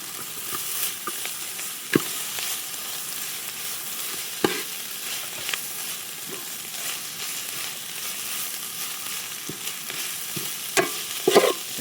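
Ginger and garlic fry in a pan with a steady crackling sizzle, broken now and then by scattered spoon knocks and scrapes, close and moderately loud, with no talk.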